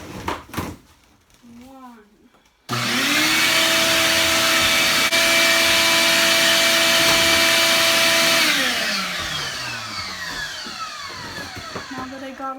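A vacuum cleaner in a bus being converted switches on abruptly after a short stretch of talk, then runs with a loud steady whine before its pitch drops and it keeps droning.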